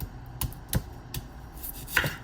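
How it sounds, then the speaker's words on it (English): A knife chops an onion on a board for homemade guacamole, with a few sharp, irregular strikes close to the mic and quiet pauses between them. "I'm sure I'm not chopping it properly, but as long as you get little pieces of onion to add into there."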